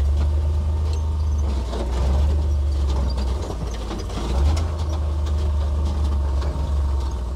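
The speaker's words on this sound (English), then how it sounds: "I'm just letting it idle." A vintage flat fender Jeep engine with fuel injection idles steadily up close, a loud low rumble with a mechanical ticking chatter riding on top and slight swells in pitch, with no talking.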